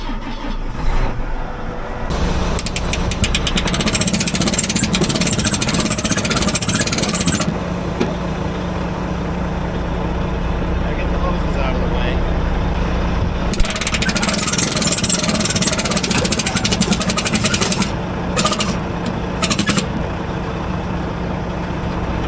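A tractor engine idles steadily as it warms up, a continuous low rumble with a rough, rattling texture that stays loud and close throughout, with no talk over it.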